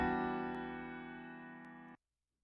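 Piano played dry, with no EQ or compression, one sustained chord ringing close and steady for about two seconds before cutting off abruptly, alone.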